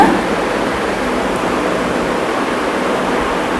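Water rinsed from a mixer jar pours into a pan of egg gravy, a loud, steady, close splashing rush that runs unbroken throughout.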